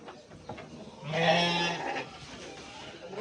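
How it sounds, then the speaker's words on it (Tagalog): A black sheep on a small farm gives one wavering bleat, close and moderately loud, rising out of quiet outdoor background and fading after about a second. "Itim na tupa."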